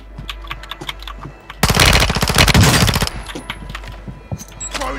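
Rapid automatic gunfire erupts in a loud burst of about a second and a half inside a Call of Duty match, with sparser shots and clicks before and after.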